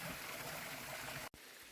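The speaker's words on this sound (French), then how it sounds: "il y a littéralement des cascades de partout dans ce temple" Waterfalls cascade inside a temple in Hiroshima, giving a steady, full rush of falling water that continues without a break except for a brief drop near the end.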